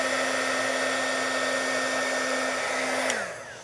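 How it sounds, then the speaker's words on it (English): A heat tool melting embossing powder on a card blows with a loud, steady whirring hum close by, then switches off and winds down near the end. "take your heat tool and melt the powder"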